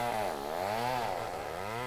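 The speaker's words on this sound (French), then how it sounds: "ils sont impuissants face à la menace des tronçonneuses des compagnies forestières" Chainsaws of logging companies whine steadily in a Cameroonian forest, the motor pitch rising and falling as it revs, heard alone at a low level.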